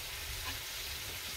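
Chayote goes into a pot of simmering mussel soup with a soft crackling, bubbling sizzle that stays close and even, then a brief bump at the end.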